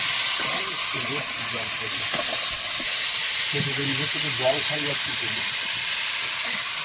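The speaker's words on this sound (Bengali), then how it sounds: "এবারে শুক্তোটা চাপাবো একটু পাঁচ ফোড়ন দিলাম তেলের মধ্যে উচ্ছে আলু বেগুন কাঁচা টমেটো" Panch phoron spices sizzle in hot oil with bitter gourd, potato, brinjal and green tomato for a Bengali shukto: a steady, close frying hiss running throughout, with a voice talking over it.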